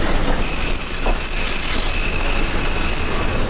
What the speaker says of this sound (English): Number 652 was part of the last order of new passenger power for the Rock Island